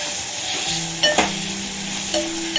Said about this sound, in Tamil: அடுத்து நம்ம இஞ்சி பூண்டு பேஸ்ட் போட்டுக்கலாம். அதையும் வதக்கி விட்டுக்கலாம்.